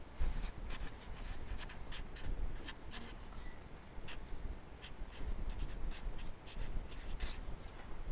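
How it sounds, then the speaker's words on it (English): Close pencil or pen scratching across an index card in short quick strokes, quiet and dry with a soft room hum beneath, no one speaking. "So in your index card, we're going to write down consecutive integers."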